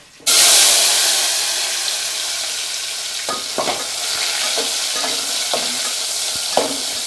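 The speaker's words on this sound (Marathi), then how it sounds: "त्यानंतर टाकायचं त्याच्यात टमाटो" Tomatoes tipped into hot oil already crackling with cumin and mustard seeds, for a brinjal curry, sizzle in a loud steady fry with a few sharper stirring scrapes throughout; no one speaks.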